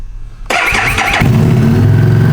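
A 2015 Harley-Davidson Street 750 motorcycle engine starts up nearby, a brief starter whir catching into a loud, steady rumbling idle.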